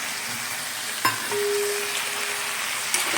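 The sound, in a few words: fried shrimp and bori added to sizzling pan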